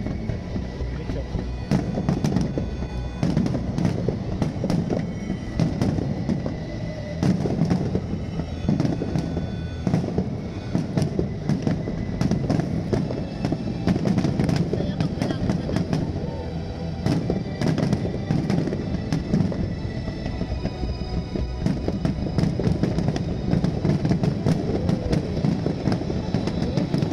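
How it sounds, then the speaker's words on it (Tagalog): Fireworks bursting continuously at an outdoor pyromusical competition in the Philippines, a dense run of booms and crackles with sharp repeated reports, loud and close, while people talk faintly among the crowd. "Ganda ng synchronize ng fireworks na nag-music."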